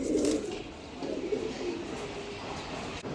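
Giribaz pigeons coo softly in a pigeon loft, with a few low cooing phrases early and then fainter ones over steady background noise.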